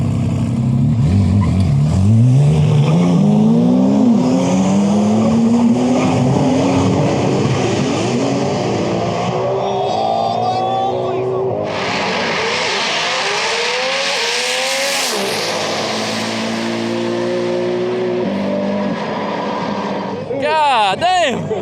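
Drag race cars roar past at a TX2K event, engines revving hard with rising and falling pitch sweeps, loud and close, a car passing near the end, with people talking over the noise.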